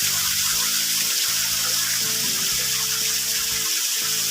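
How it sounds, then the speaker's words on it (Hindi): A man-made waterfall at the Mukundpur white tiger safari pours steadily, a continuous loud rushing and splashing of flowing water with a low hum beneath, no voices over it. "जो है मैन मेड झरना है और बहुत ही कलकल की आवाज़ आ रही है"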